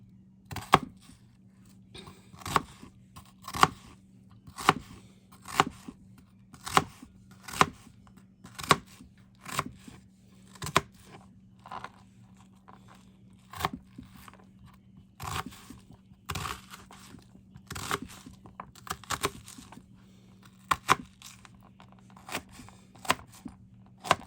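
A knife chops food on a cutting board while preparing a batch for canning ground beef, sharp separate cutting clicks falling in a fairly regular rhythm over a low steady hum, close and quiet.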